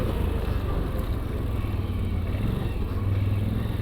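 A CFMOTO 1000 Gen3 quad bike engine rumbles steadily at an even pace while riding on a track in normal mode, droning loudly and constantly throughout, with no talking.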